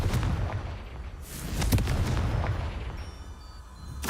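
A Confringo fire-blast spell from the video game Hogwarts Legacy bursts with loud, booming explosive impacts. Several heavy blasts land in quick succession over a rumbling background, with no talking.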